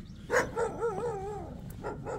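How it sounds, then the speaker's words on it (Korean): Stray dog barking and yipping in a pine grove, a few short high-pitched barks and whiny yelps spread over two seconds, close and clear with no talk. "그러니까 네가 좋아서 짖는 건지 뭐 왜 짖는지 모르겠어"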